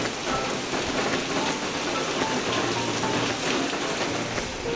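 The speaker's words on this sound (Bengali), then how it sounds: "বৃষ্টি এখন হচ্ছে বাইরে দেখুন" Steady rain falls outside a bedroom window, a dense, even hiss of drops on surfaces that stays loud and constant throughout with no voices.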